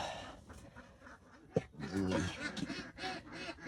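Ducks on a duck farm raised for eggs quack and honk in a loose, overlapping chorus nearby, with a faint voice in the background.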